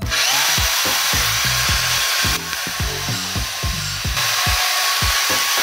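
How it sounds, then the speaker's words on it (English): Power drill boring pivot holes through the metal legs of a golf cart being shortened into a miniature cart, heard as a rapid series of short, loud bursts with a steady rumble underneath and no talking. "and then re-drill the pivot holes"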